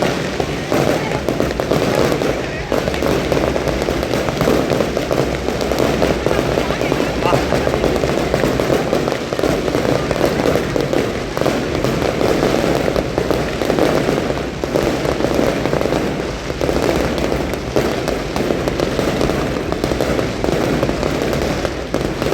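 Firecrackers burst in a dense, relentless crackling barrage that never lets up, with voices talking faintly beneath the din.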